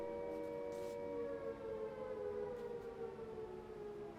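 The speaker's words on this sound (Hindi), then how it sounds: "जहां पर सायरन बज रहे हैं।" Air raid sirens wail during a blackout in Amritsar, a distant rising and falling civil defense tone held steadily with faint background noise.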